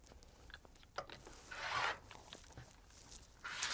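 Close, quiet rasping of quilt fabric being sliced through, likely by a rotary cutter along a ruler, with a couple of longer scraping strokes and small taps in between.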